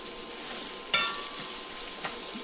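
Morel mushrooms sauteing in a pan with butter and onions give a steady soft sizzle and frying hiss, with a couple of brief louder pops.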